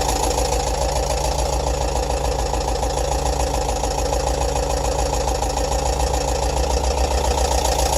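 A bus engine runs at a slightly raised idle of about 870 RPM, a steady, loud mid-to-low rumble with a constant throb and no speech.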